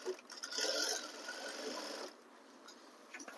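A sewing machine stitches a lehenga, running a quiet, steady whir for about two seconds before easing off to a softer idle, with no voices.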